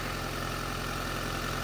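An engine from a 1962 Rambler American, swapped into a 2001 Honda Civic body, runs at a steady idle just after firing up, a quiet, even hum with a faint low pulse and no voices.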